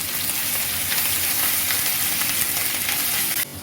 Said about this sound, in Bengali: রসুনটা তেলে দিয়ে একটু নাড়িয়ে চাড়িয়ে